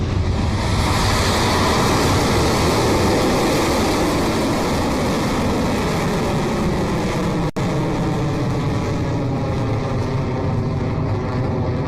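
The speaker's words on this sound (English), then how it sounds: "Liftoff." Electron rocket lifting off on its 50th launch, a dense continuous roar filling the whole stretch, loud and steady with wind-buffeted microphone noise and a single brief dropout near the end.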